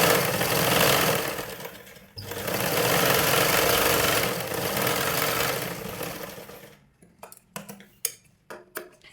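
Sewing machine running in long steady bursts while stitching the lining cloth of a blouse, a dense mechanical whir that pauses briefly twice before stopping, followed by several sharp clicks and taps.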